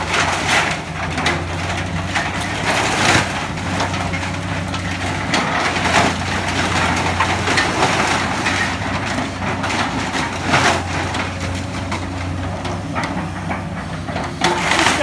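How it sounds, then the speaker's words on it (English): A tractor demolishing a house crunches and smashes through wood, with continuous loud crushing and cracking over a low engine drone throughout. "This guy's a real pro how he smashes everything down. And he's moving the tractor forward towards the house over there."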